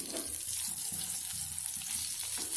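Steady crackling sizzle of spices frying in hot oil, continuous and close, with faint stirring clinks underneath and no voices.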